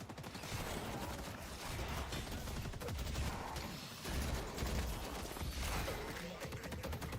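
Gunfire in the Deadlock video game, a continuous rapid rattle of shots with heavy low thumps, steady and loud across the whole stretch, with no talk over it.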